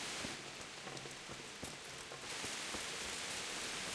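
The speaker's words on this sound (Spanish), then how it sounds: "Tío, la lluvia" Steady rain pours down in the video game Kingdom Come: Deliverance in a constant hiss, with scattered drops pattering on surfaces throughout and no voices.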